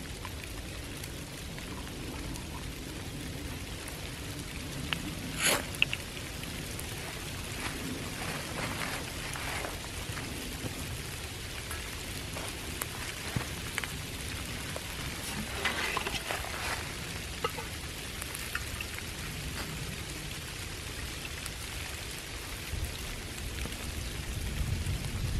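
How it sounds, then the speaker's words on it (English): Light rain, mixed with a hint of snow, patters steadily outdoors on a hike, with a soft continuous hiss and occasional sharper drops nearby and no talk over it. "Today it can't decide whether it's gonna snow or rain. It's spitting a little bit"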